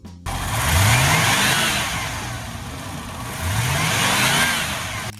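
A Buick Stage 1 455 cubic inch big-block V8 revs loudly up close, climbing twice in two long throaty surges with a settle back toward idle between them.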